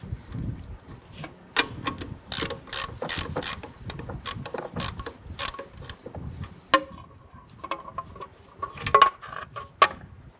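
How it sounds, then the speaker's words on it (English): A ratchet wrench spins off ball joint nuts on a 1994-2004 Ford Mustang front suspension, bursts of rapid clicking with metallic clinks and pauses, close and alone. "Remove those nuts completely."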